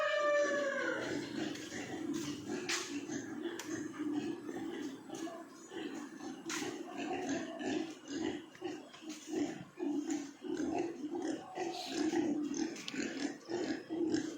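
Pigs grunt and squeal on a farm, their calls scattered and fairly close across a steady background, with occasional voices talking nearby.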